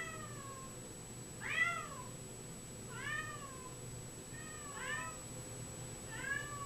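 A black cat meows at an animal shelter, four separate clear meows spaced about a second and a half apart over a steady low room hum.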